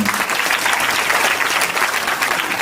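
An audience at a spiritual discourse gathering claps in steady, loud, dense applause that carries through without pause.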